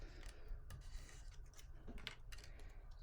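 Metal snips trim a paper card strip for a handmade card, giving a few short, soft cutting crunches and rasping rubs close to the mic, with no talking.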